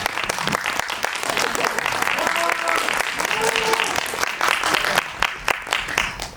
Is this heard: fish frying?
no